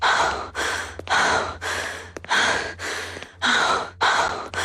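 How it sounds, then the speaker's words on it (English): A video game character in a yandere game breathes heavily, with a close, loud series of about eight rhythmic breaths, each a long, breathy rush with short gaps between. "Especially this sound effect where your character is breathing really heavy like"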